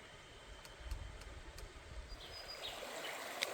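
A river in Monga National Park, New South Wales, flows as a faint, continuous watery rush and trickle close by, steady with no voices.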